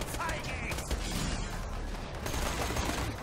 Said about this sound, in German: Wo kommen die Schüsse? Von da hinten gerade.